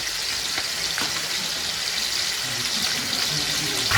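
Chicken skin rendering its fat in a pan over gentle heat, giving a steady close sizzle with occasional sharper pops and crackles throughout.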